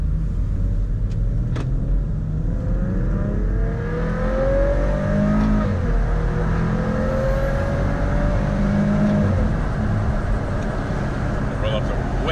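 A 2018 Maserati GranTurismo pulls hard, its engine note climbing steadily and loudly under heavy acceleration heard from inside the cabin, with a voice speaking over the roar.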